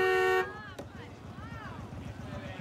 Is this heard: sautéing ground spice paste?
no